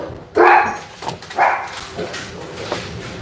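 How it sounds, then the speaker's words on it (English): Several dogs bark indoors in short loud bursts, two strong barks followed by fainter yips and whines, with no talk over them. "And that is my dogs."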